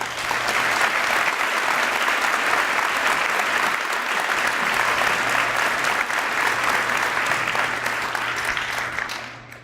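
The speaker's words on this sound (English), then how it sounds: "Give them a round of applause as well." A school Veterans Day assembly crowd applauds students committed to the military, loud dense clapping filling the gym for nearly ten seconds before tapering off, with a low steady hum underneath.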